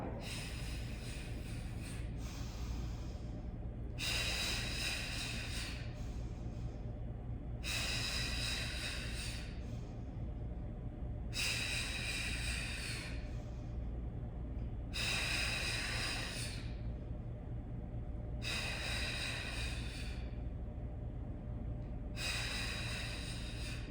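Heavy breathing during a Pilates mat workout: loud, forceful breaths come in regular bursts roughly every four seconds, about seven in all, over a steady low background hum.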